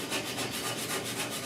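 A hand sanding block rubs over primer surfacer on the dash of a 1966 Ford F100 truck, making a steady, rhythmic scratchy back-and-forth stroking, close and continuous with no talking.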